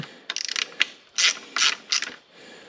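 A ratchet with a socket works a clutch bolt on a 2006 GSX-R 600 motorcycle, giving quick clicking runs and several louder ratcheting strokes, close up, with no talk.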